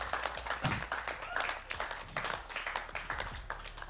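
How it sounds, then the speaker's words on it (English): Faint applause from a crowd at a university esports finals event honoring Imperial College, scattered clapping heard at a distance and low in level throughout. "Can we please give a big round of applause for Imperial College?"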